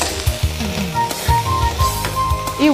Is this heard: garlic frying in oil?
yes